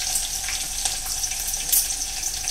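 About two glasses of water are poured into a pot on the stove while cooking pundi palya, making a steady, trickling splash at close range with a few brief spatters.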